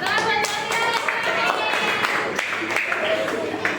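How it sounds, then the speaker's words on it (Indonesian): Brisk group hand clapping at a teacher training session in Surakarta, steady and fairly close, with voices and cheering mixed in throughout. "Tepuk tangan buat"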